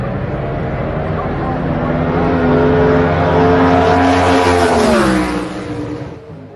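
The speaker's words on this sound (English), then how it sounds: "This is a stock computer car, twin turbo." A twin-turbo Ford Coyote race car engine on a stock computer, at a World Cup qualifying event, revs loud and close in a sustained rising roar, then the pitch drops and fades away.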